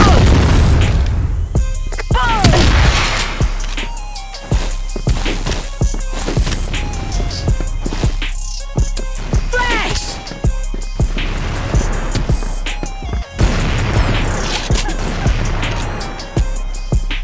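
Grenade explosions and booming blasts in a first-person shooter game, several loud hits spread across the stretch amid constant gunfire and game noise, with brief bits of voice.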